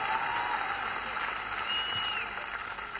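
A large crowd applauds at a political rally in Amethi, a dense continuous roar of clapping and cheering holding steady throughout.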